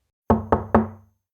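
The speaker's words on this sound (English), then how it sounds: "and she knocked" Three firm knocks on an apartment door, close and evenly spaced, each with a short ringing decay, alone in silence.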